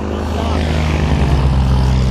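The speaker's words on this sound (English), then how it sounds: "That's our plane." A skydiving propeller airplane at the Long Island Skydiving Center, its engine droning loud and close with a steady throbbing hum that swells slightly partway through, no words spoken.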